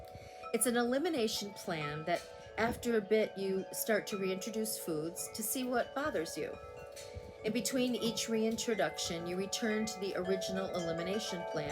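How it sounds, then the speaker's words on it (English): Wind chimes ring outdoors in a breeze, sustained metallic tones and scattered clinks running steadily underneath someone talking throughout. "Excuse the wind chimes, the wind's coming through."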